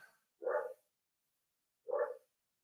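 A dog barks twice indoors, two short separate woofs about a second and a half apart, fairly close, with silence between them and no talk.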